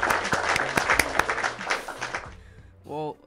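A small group claps in a quick scattered burst for a couple of seconds, then fades out. A short tonal voice-like sound follows near the end.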